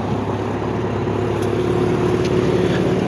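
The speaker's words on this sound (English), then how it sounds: "Test drive and getting it all muddy." Toyota 4x4 pickup on a muddy test drive, flatbed camper conversion with new bushings and anti-sway bars: a continuous loud low engine drone and road rumble, steady throughout with no voices.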